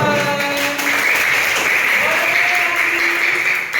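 Dense, steady clapping from a classroom full of students, continuous and fairly loud throughout, with faint voices and a few tonal sounds mixed in.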